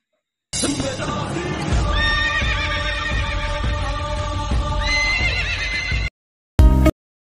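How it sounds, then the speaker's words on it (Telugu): A horse in a village park, with a small boy sitting on it, gives one long, loud, close whinny lasting several seconds, followed after a short gap by a brief harsh burst. "ఇక్కడ ఈ బుడ్డోడు మొదటి సినిమాలో రామ్ చరణ్ లా గుర్రం మీద కూర్చొని ఉన్నాడు."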